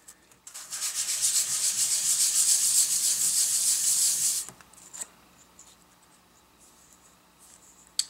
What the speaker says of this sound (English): I like to take a piece of 800 grit sandpaper and just lightly go over the surface of the copper